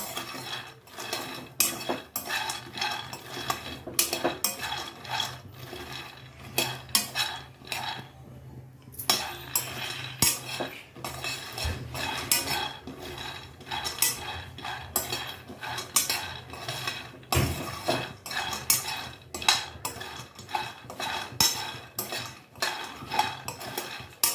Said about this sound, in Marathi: शेंगदाणे प्रथम भाजून घेऊया आपण